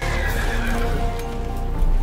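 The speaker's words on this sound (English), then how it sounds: "What the hell is that? A horse?" A winged horse in the Black Ops video game gives a loud, close whinny with hoof-like clatter, set against busy game noise.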